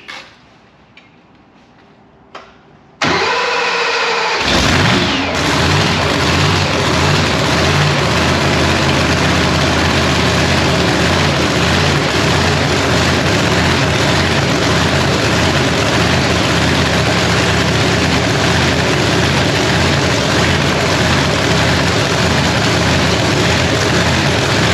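A $100,000 race car engine cranks after a few quiet clicks, catches with a loud roar and settles into a heavy, steady, rumbling idle that continues close and loud.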